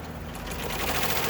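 An embroidery machine stitches a Flexfit hat, giving a fast, steady mechanical chatter that grows slightly louder and stays continuous with no talking.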